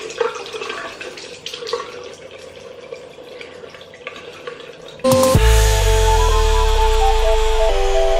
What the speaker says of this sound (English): let's add the water in.